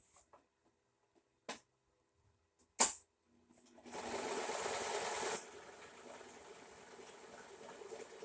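A serger stitches stretchy satin fabric, starting after a few sharp clicks and handling sounds with a steady, moderately loud mechanical whir that runs briefly and then drops to a quieter hum.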